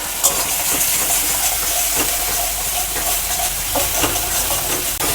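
Spice paste with chopped tomato and salt sautés in a pan for prawn malai curry, a continuous close sizzle and hiss broken by occasional scraping stirs, with no voices.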